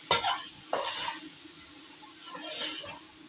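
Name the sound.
stirring onions frying in a pot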